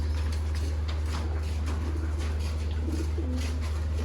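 Sialkoti pigeons, a champion breed, coo softly in a few low, rounded calls over a steady low hum and background noise, without any talking.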